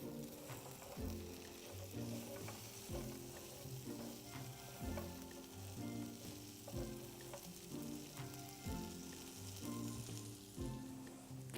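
Continuous sizzling of fresh green beans in a hot pan with periodic stirring scrapes, steady and close, accompanied by soft background music.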